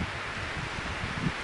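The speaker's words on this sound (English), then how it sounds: "Quite windy." Wind rustles leaves at a lake in the Boundary Waters wilderness, a steady, close broadband rush with small gusts and no talking.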